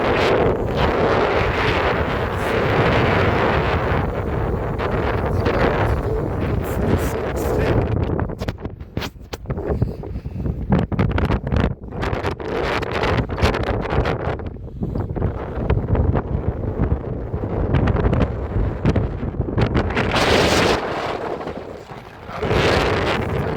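Strong wind in the Howgills buffets the microphone throughout, a loud, continuous roaring rumble with gusty surges and brief lulls.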